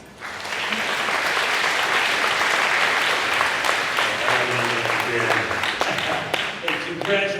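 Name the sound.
audience applause for a speaker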